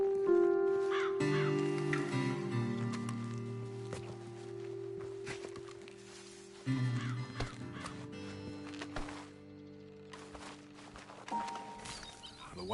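Horses in Red Dead Redemption 2 snort and clip-clop beside a steady tonal music score, with brief spoken lines in between.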